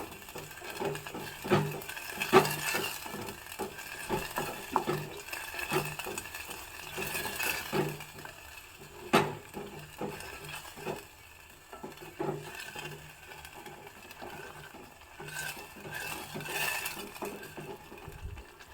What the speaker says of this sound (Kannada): ಒಗ್ಗರಣೆ ಹಾಕಿರೋ ಎಣ್ಣೆಯಲ್ಲೇ ಈ ಹಸಿ ವಾಸನೆ ಹೋಗೋವರೆಗೂ ಈ ಮಸಾಲ ಹಾಕಿರೋದನ್ನು ಹುರ್ಕೋಬೇಕು